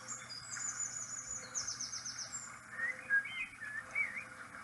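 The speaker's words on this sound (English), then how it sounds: "I hear birds, lots of birds chirping." Many birds chirping outdoors in a nature soundscape, with quick high tweets and trills overlapping at moderate distance over faint background hiss.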